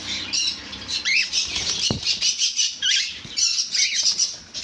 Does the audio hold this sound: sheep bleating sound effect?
no